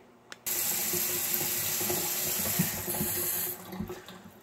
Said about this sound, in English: I'm gonna rinse and mix this and then rinse it and then mix it and then rinse it